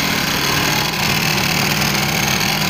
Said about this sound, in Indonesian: Inilah motornya. Keadaannya bunyinya kayak gini ya.